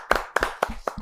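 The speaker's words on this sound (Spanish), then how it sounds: "Un aplauso." Four distinct hand claps in an even rhythm, close and fairly loud, sound within a short burst during a gathering honouring a family of rescuers.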